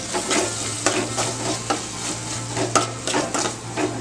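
Sauces sizzling in a frying pan for egg noodles, with repeated scraping stirring strokes, close and steady, with a faint low hum underneath and no talking.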